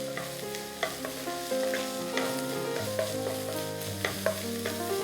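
Mixed vegetables, including chopped green peas, stir-fry in a pan for mixed fried rice. A steady sizzle runs under repeated scraping stirs and light knocks, with a tonal hum in the background.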